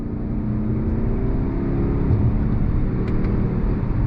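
A 2023 Subaru Ascent SUV with a CVT and simulated gears accelerates on throttle, a steady low engine drone and road rumble heard from inside the cabin, continuous and fairly loud with no talk.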